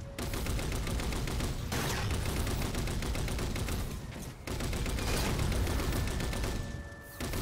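Turret gunfire in Halo 4 rattles in dense, continuous automatic bursts, loud and close, with two brief gaps between long sustained volleys.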